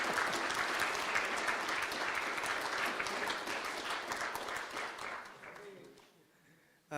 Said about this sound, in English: let's have a nice round of applause for Maestro Juan Felipe Herrera.